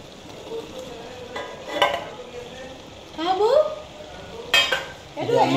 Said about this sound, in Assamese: মছলাটো ধুনীয়াকৈ ভাজি এতিয়া অমিতাটো মই ইয়াত দি দিম